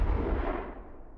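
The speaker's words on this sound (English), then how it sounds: "I just put explosion drop." A processed explosion sound effect with a heavy low-end drop hits at once with a loud boom, then rumbles and decays over about a second, standing alone.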